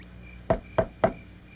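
Three evenly spaced knocks land on a door, sharp and close, over a quiet hum with faint insect chirping and no speech.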